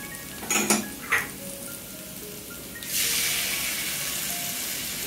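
A spatula clacks and scrapes against a pan of chicken fried rice, a few sharp knocks clearing space in the middle, then a broad sizzle as egg hits hot oil and keeps frying steadily.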